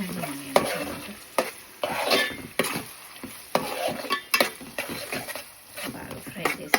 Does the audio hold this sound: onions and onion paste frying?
yes